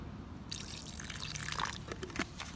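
Water is added to a thick plaster mix, with soft close drips and a brief trickle of liquid, quiet and alone without any talk.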